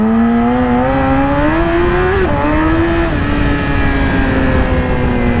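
A motorcycle with a performance exhaust drones loudly and steadily, its pitch climbing and then dropping abruptly twice as a quick shifter changes gears, with heavy wind rush throughout.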